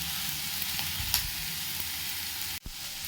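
Hotel-style chilli paneer sautés in a pan with ginger, garlic, onion and chilli paste. A steady, close sizzle hisses throughout, broken by a brief clunk of stirring near the end.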